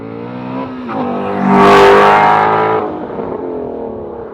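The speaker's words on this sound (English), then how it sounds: "I'm going to start from a 20 roll on first gear and take it all the way to the end of second gear" A Ford Shelby GT350 with an X-pipe and resonator delete accelerates hard from a 20 mph roll through first and second gear, its exhaust swelling to a loud roaring peak, shifting, then settling into a steady drone.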